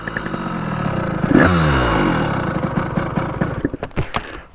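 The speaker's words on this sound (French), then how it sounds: "Qu'est-ce que ça marche cette moto? C'est un monstre, les gars." Motorcycle engine revving hard while being ridden, a loud close roar that surges and climbs in pitch, then drops back with clattering, uneven bursts.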